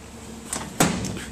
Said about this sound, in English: Each of these doors is functioning and does work.